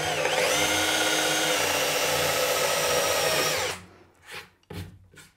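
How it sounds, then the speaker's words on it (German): A router on a circle jig cuts a hole in a board for a cyclone dust extractor build, a loud steady high whine that runs for nearly four seconds and then cuts off, followed by a few brief clattering knocks. "diese Öffnung mir mit meinem Fräszirkel mache"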